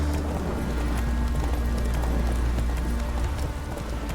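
In The Witcher 3, the horse Roach gallops, hooves pounding in a rapid, steady rhythm over a low rumbling background throughout.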